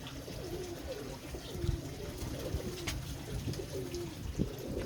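Pigeons coo softly and repeatedly nearby, low rolling calls over a steady background murmur.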